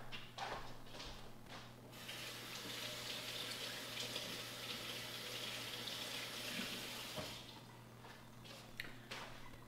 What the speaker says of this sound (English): then I'm gonna rinse these peppers off